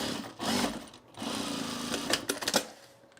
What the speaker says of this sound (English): So we just need to now edge stitch this shut.